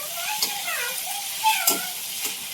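Vegetables with tomato being stirred in a frying pan give a soft, steady sizzle with a few light scrapes, while a voice murmurs quietly underneath.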